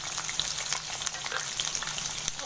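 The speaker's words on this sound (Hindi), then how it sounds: "ऑयल हमारा गर्म हो चुका है, अभी हम इसके चिकन शामिल करेंगे" Chicken pieces frying in hot oil for chicken karahi make a steady, crackling sizzle with dense popping and spattering throughout.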